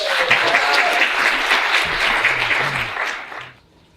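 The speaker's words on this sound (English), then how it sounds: "Please give this conference a round of applause." Audience at an International Women's Day conference applauding, a dense, steady burst of clapping that holds for a few seconds then quickly dies away.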